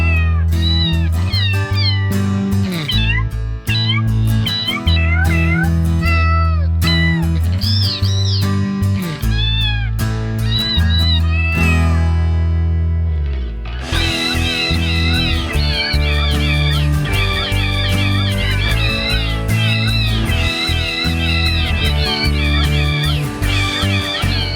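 Electric guitar run through an effects pedal voiced to mimic a cat, its bending notes yowling and meowing in a long, loud, busy musical run with no talking.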